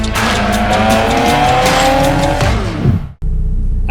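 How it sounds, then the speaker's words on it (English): A Mitsubishi Lancer Evo 4 with a Fujitsu exhaust drives hard, its engine roaring steadily through the gears with a rising whine and tire noise, then cutting off abruptly near the end. "I actually kind of like this Fujitsu exhaust. It's super quiet, like almost stock sounding"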